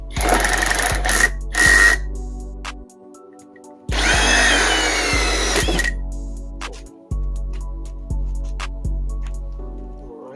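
A power drill drilling into a car bumper whines in repeated bursts, starting and stopping several times with short pauses, loud and close, with no talking.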